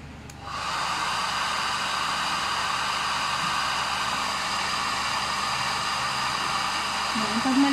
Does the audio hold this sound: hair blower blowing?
yes